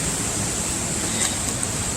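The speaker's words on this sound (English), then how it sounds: "Come sit on these rocks, get grounded, relax, and just listen to that water" Water rushing over and around rocks along a hiking trail in the Charlotte area, a steady, continuous broadband wash heard close up with no one talking.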